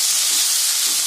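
Green beans sautéing with onion in a pan, a steady loud hiss of sizzling that stays constant and even for the whole moment, with no voices.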